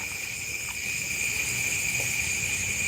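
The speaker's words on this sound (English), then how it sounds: "Crickets, yeah." Crickets chirp steadily outdoors on a calm evening by a house, a continuous high trilling that keeps up without a break and sits at a moderate distance.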